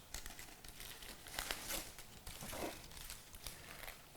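Tape and gift wrapping paper being handled up close, with soft crinkling, rustling and a few sharper crackles and tearing sounds at low volume.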